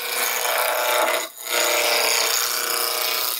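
A spindle gouge cuts a spinning wooden blank on a lathe while turning a toy race car, giving a steady, loud shaving hiss with one brief dip midway.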